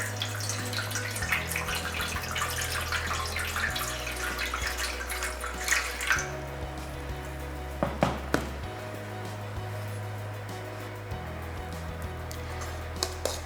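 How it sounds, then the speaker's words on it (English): Water poured into an oven tray in a home kitchen, a steady splashing pour for several seconds, then quieter with a few knocks and clinks of the tray, under a low steady hum. "Take an oven tray and pour in about halfway through a bit of water."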